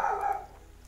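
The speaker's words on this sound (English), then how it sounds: "And that dog is still barking. That's our dog, sorry." A pet dog barks in a home during a live game broadcast, one short, fairly close bark that fades within half a second.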